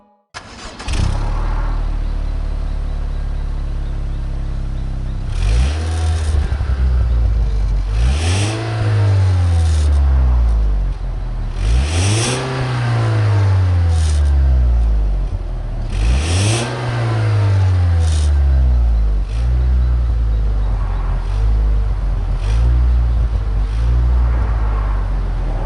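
A Lexus IS200t with its axle-back mufflers in question revs repeatedly, about four loud rising-and-falling pulls over a steady idle, the exhaust note droning close and alone with no talking.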